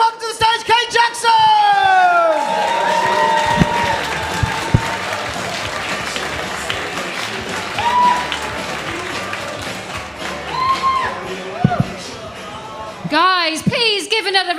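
At a comedy club show, audience applause and cheering swell beneath a host's loud amplified voice, with crowd noise and whoops building as the next comedian is welcomed to the stage.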